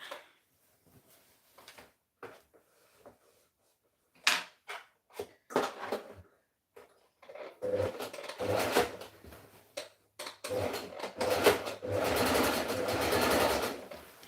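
Sewing machine stitching fabric during a home craft session, with bursts of rapid, steady mechanical whirring separated by short pauses and clicks, growing longer and louder toward the end.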